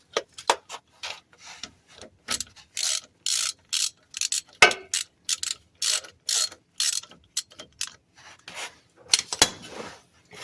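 Ratchet wrench unthreading a bolt on a 1998 Ram 1500 front axle, a long run of quick rapid clicking bursts in irregular rhythm, close and fairly loud with short pauses between strokes, no talking.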